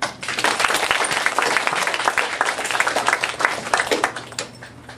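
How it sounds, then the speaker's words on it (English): Audience applause at a Chinese student association welcome event: dense, loud clapping from a crowd filling the whole stretch, steady and unbroken with no voices on top. "So let's applaud again."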